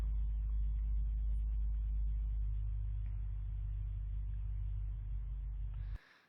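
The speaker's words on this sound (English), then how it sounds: "This is a car. This is some vehicle, quite a loud exhaust" A deep, steady engine rumble with heavy low-end exhaust drone runs continuously for about six seconds, then cuts off abruptly.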